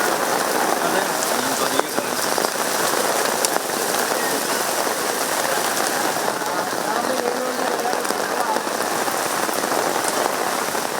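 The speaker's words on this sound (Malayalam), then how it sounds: "പിന്നീടത് പെരുമഴയായി മാറി." A heavy downpour drums steadily and loudly on surfaces outdoors at a gathering, a dense unbroken roar of rain lasting throughout with no clear talking.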